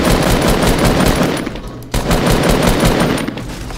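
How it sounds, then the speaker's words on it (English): Rapid, loud automatic gunfire in the video game Fortnite crackles in dense bursts, broken by a brief pause near the middle before the shooting resumes. "West is shooting."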